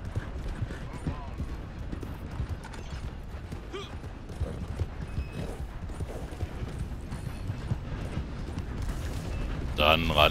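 Horse hooves clip-clop at a steady riding rhythm through the whole stretch in Red Dead Redemption 2 Online, with faint creaks of tack and a brief louder burst near the end; a voice talks quietly over it.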